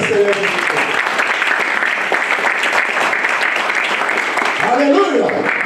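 Church congregation clapping together during a worship service, a dense continuous burst of applause for several seconds, loud and close.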